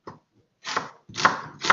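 Knife chopping an onion on a board at home while chicken is prepared for oven roasting, a few separate bursts of close cuts with short pauses between them.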